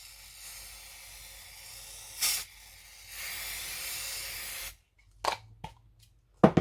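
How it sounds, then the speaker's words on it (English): An aerosol can of spray adhesive hisses in several sustained bursts, long steady sprays with pauses between, followed by a few short clicks and rattles nearby. "When you use your spray adhesive"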